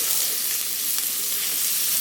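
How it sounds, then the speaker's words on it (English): Steady, bright sizzling of onions and garlic frying in hot oil, continuous and close, with faint crackles and no talking. "Here I'm frying the onions and garlic."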